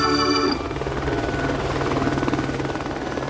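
Helicopter in flight over CERN, its steady loud rotor and engine drone continuous throughout, with a brief brighter tonal sound at the very start.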